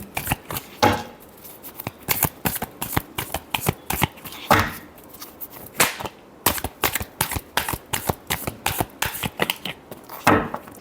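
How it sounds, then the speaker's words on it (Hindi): A tarot deck being shuffled by hand: rapid bursts of crisp card riffles and slaps repeat in an uneven rhythm, close and fairly loud, alone without talk. "Last shuffle."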